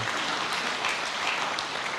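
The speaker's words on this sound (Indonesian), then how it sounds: "Berikan tepuk tangan yang meriah betul." A church congregation bursts into loud, sustained applause, dense hand-clapping filling the whole moment with no speech over it.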